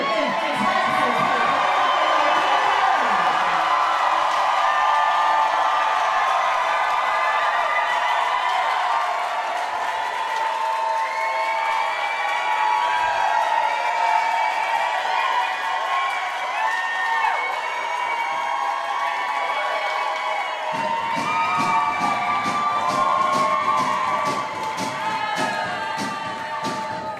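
Large crowd at a live drag show cheers, whoops and shouts continuously, loud and close, with steady rapid applause and clapping joining toward the end.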